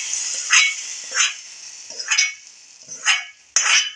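Onions and curry leaves frying in hot oil in a pan for a jackfruit curry, with a bright steady sizzle that swells in several bursts as the pan is stirred, close and with no talking.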